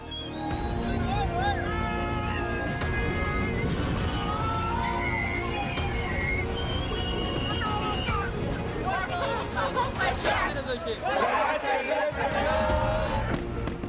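A large, uncontrollable crowd of demonstrators in the suburbs of Khartoum, Sudan, sends up a dense, continuous roar of shouting and babbling voices that stays loud and close from start to finish.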